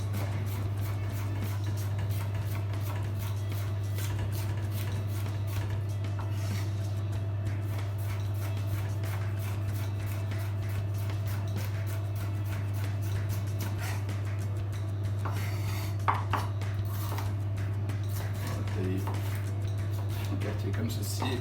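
A knife finely slices a hollowed-out bell pepper, producing a long run of quick, light, close taps over a steady low electrical hum.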